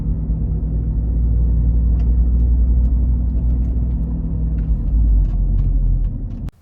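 A Volvo V50 T5 with a worn wheel bearing produces a low continuous groaning hum under steady road rumble, loud and close, fading out abruptly at the end.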